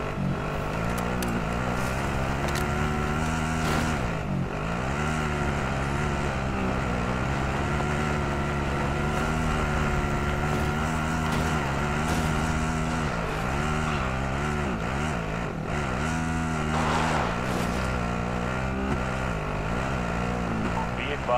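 A vehicle engine driving in Call of Duty, a loud continuous motor drone with rising and falling pitch as it revs and shifts, heard close and steady alongside voices talking.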